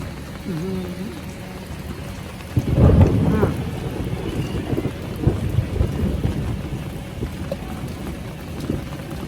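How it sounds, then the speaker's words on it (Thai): Steady rain falls outdoors with rumbling thunder and a louder burst partway through, while voices talk and someone speaks over the downpour. "คิดว่าฝนจะหยุดตกไหมครับ"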